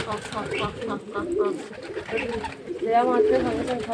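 Pigeons coo and flutter restlessly while waiting for feed, soft throaty calls repeating close by over a continuous murmur of the flock.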